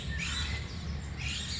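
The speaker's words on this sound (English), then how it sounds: "Birds are saying such nice things." Birds chirp outdoors in a few bright, rising tweets at moderate distance over a constant background hum.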